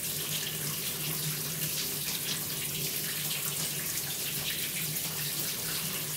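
Water flushing through the cooling system of a Jaguar V12 during a coolant flush with new hoses, a steady close rushing and splashing pour that runs continuously without pause.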